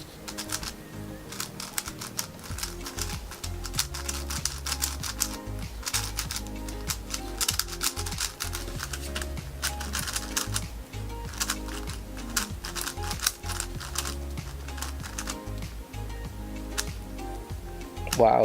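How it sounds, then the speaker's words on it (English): Rapid plastic clicking and clacking as a Cubicle Galaxy Megaminx twisty puzzle is turned repeatedly, close up, in dense irregular bursts throughout with no talk. "So let's do some first turns on this puzzle."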